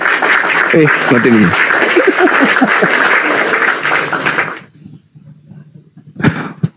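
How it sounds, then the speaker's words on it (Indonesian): Church audience applause bursts out loud and sustained for several seconds, mixed with a voice and cheering, then cuts off abruptly into quiet with a brief thump near the end. "Tepuk tangan untuk Tuhan."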